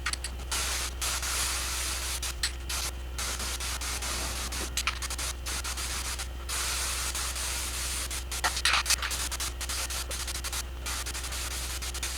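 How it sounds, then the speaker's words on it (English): Aerosol spray paint hisses steadily from a Turbocan can onto the plastic body of an RC car, long continuous bursts with brief pauses, close and fairly loud over a constant low hum. "I really was not prepared for how much spray paint this thing puts out. I'm using one of the turbocans."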